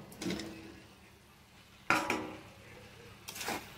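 Fried jackfruit pieces being tipped into spiced masala in a pot, a few scraping clatters of utensil against metal, with soft rustling in between.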